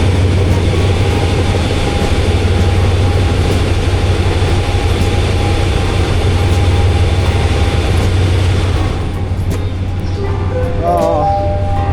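A train at Bangkok's Central Station rumbles loudly and steadily, its heavy low drone filling the scene before easing slightly near the end, with faint squeaks emerging.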